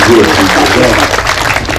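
Dense crowd applause at a public performance at Pendopo Kanigoro, Blitar, Indonesia, loud and sustained, clapping blended with a murmur of voices throughout.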